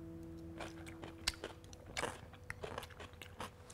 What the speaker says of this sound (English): It has a really delicious crunch.